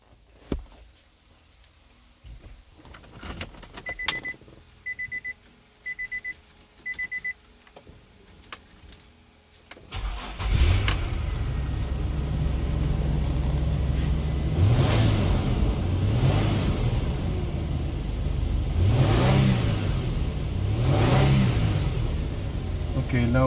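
Keys jangle and rattle close by, then a Nissan Skyline GT V35 engine cranks and starts, settling into a loud idle with several rising revs, after a pedal fuel sensor replacement.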